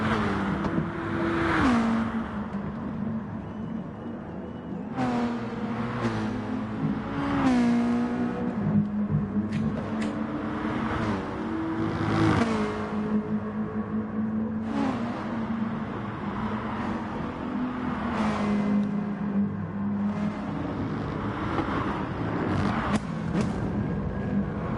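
Race cars lapping Interlagos in the GT Sport video game during an endurance event, engines whining steadily with repeated rising revs and gear shifts as several cars run close together, loud and continuous throughout.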